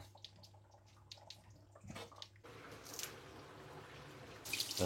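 Water trickles and drips faintly at first, then a steadier pour swells toward the end into a pot of dried fish with kokum and onion-coconut paste, close and fairly quiet, with no voices.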